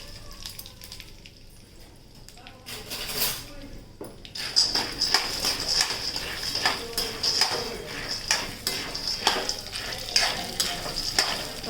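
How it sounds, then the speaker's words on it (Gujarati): Cumin seeds crackling in hot oil for a tempering, with grains then stirred through, a steady bright sizzle filling the pan after a quieter start, with scraping stir strokes and light clinks of a utensil against the vessel. "હવે એને સારી રીતે હલાવી નાખશું"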